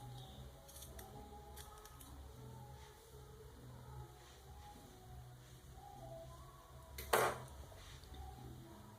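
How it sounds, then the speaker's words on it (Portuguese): Scissors snip off the excess yarn of a crochet tablecloth with one sharp, close cut near the end, after quiet handling noise. "E agora é só cortar o excesso do fio."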